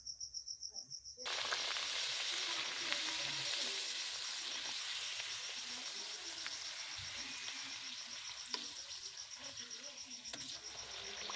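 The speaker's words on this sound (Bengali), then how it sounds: "তো দেখো অনেকগুলো লুচি আবার ভাজা হয়ে গেছে" Luchi deep-frying in hot oil in a home kitchen: after a brief pulsing start, a continuous bright hiss and crackle fills the clip, steady and moderately close, with no clear talking.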